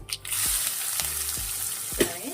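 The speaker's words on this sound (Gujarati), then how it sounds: "થોડી એવી ડુંગળીને ગોલ્ડન બ્રાઉન કલરની કરી લેશું" Onion, green chillies and curry leaves sizzle in hot oil in a pan, a steady close frying hiss broken by several soft stirring scrapes and knocks.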